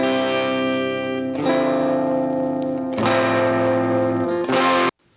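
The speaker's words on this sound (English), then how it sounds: "Very, very cool sounding amp." Electric guitar played through an amplifier and effects rings out in sustained, distorted chords with chorus-like shimmer and reverb, changing chord every second or so before stopping abruptly.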